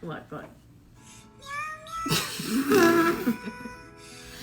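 Cat meows from a short AI-generated cat clip played back, a few rising mewing calls followed by a louder, drawn-out yowl, heard over light background voice and room noise.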